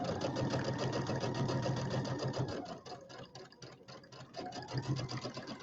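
A sewing machine runs a quarter-inch seam in fast, rhythmic bursts of close, mechanical whirring that slows and pauses briefly midway before picking up speed again.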